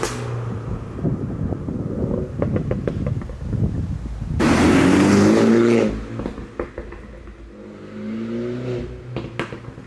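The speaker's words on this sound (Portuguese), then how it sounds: "A nota de escape neste John Cupworks pré-facelift já não era nada maus." Pre-facelift Mini John Cooper Works (231 hp) with a Pro exhaust, a loud close revving engine with throttle blips and pops, one strong rising rev surge in the middle and wind noise around it.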